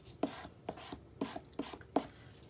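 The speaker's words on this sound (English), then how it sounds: "So just kind of smooth it down. This nail file works just fine." A nail file rasps along the edges of a small wooden cut-apart magnet, giving five short, quiet strokes at an even rhythm with brief pauses between them.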